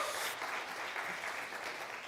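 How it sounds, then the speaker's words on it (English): Audience applause for a speaker at a conference event, a steady dense patter of clapping throughout, moderately loud and without talk. "yes, a round of applause."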